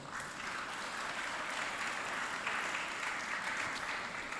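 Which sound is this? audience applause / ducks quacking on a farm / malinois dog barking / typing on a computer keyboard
audience applause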